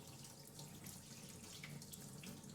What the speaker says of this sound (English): I'm going to rinse it under cold water for 15 seconds.